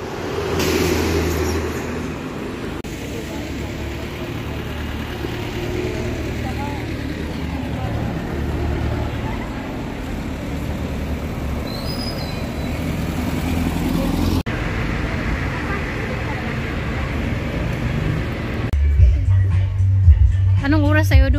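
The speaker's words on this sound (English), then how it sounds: "Kaya mag-bus kami doon. May libreng bus." Free bus ride to a family fun day school event, with a steady low engine rumble and road noise throughout, brief voices near the end.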